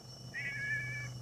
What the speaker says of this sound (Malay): Kesian ada sini ada kucing.